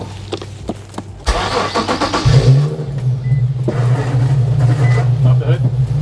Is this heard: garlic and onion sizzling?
no